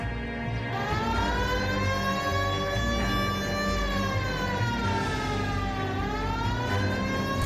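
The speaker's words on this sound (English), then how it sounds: "Hit the siren." A loud wailing police car siren in a video game rises and falls continuously, with an engine rumbling beneath it throughout.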